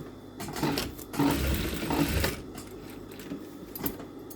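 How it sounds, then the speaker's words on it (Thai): A sewing machine tacking elastic onto a shirt hem, its needle running in short bursts of fast, close mechanical chatter with brief pauses between runs. "แล้วก็ย้ำยางไว้ด้านหนึ่ง ก่อน"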